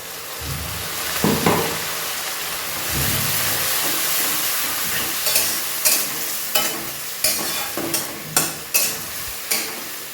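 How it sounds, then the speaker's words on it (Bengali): Ginger garlic paste frying with tomatoes in a pan gives a steady close sizzle, broken by a run of sharp, rhythmic spatula scrapes and clacks against the pan toward the end; no talking. "টমেটোটা একটু ভাজা ভাজা হয়ে গেছে এবার আমি আদা রসুনের পেস্টটা এর মধ্যে দিয়ে দেবো"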